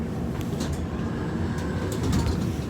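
Steady low rumble and rattle inside a moving tram in Yekaterinburg, with faint clicks and squeaks from the car over a continuous mechanical hum.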